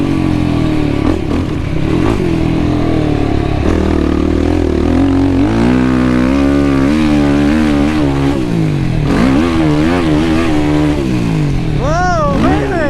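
A Yamaha YFZ450R ATV runs hard on a motocross track, its engine note repeatedly rising and falling through loud revving surges at full throttle, with a brief high pitched whine near the end.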